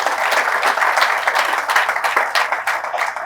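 A seated audience at a business app launch event claps loudly and steadily, a dense even applause filling the room without a break and with no clear speech over it.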